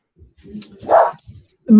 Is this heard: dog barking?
yes